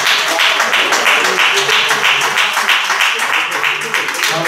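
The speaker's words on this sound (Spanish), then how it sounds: "le vamos a dar un aplauso a Damián." Sustained audience applause at a poetry recital honoring a poet, dense clapping filling the room steadily for several seconds without a break.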